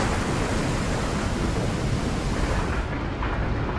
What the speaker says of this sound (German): somit gelangen wir jetzt praktisch unter den Wasserfall